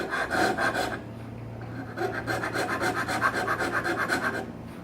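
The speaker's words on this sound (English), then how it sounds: "So these teeth are random, so it's a much smoother file, a much smoother rasp." A rasp files the corners of a wooden piece. The close, rhythmic strokes scrape back and forth with a short pause in between, and no one speaks.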